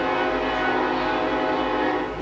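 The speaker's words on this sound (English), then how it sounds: "there's a train going by right now" A train rolls past a commercial boatyard that services barges, a steady loud rumble with horn-like tonal drones holding throughout, close and continuous with no talking.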